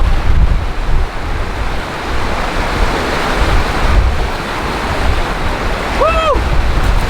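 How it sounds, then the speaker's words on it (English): Continuous rushing of a river in Scotland on a road trip toward the Isle of Skye, a broad steady wash of water heard up close, with a brief chirp near the end. "I'm going to dip my face in the river"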